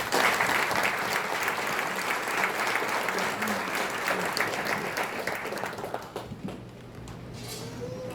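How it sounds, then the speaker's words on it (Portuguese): Large audience applauds at length to welcome a guest speaker at a televised gathering, a loud sustained wash of clapping that thins out and fades toward the end. "um grande aplauso"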